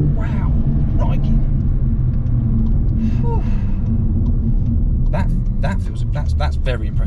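A VW Polo GTI in sport mode accelerating hard from a standstill with wheel spin, its engine a loud, continuous rumble heard from inside the cabin, with excited talking over it.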